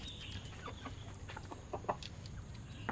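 Several four-month-old Elba chickens cluck in short bursts at close range, with a steady low background hum and occasional sharper calls.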